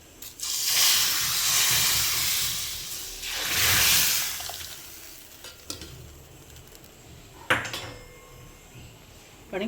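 Spices sizzle in hot oil as a tempering for Nashik-style ragda, with turmeric, red chili powder and kitchen king masala added. Two strong surges of hissing crackle fade into softer sizzling, with a few sharp clinks of a utensil against the pan.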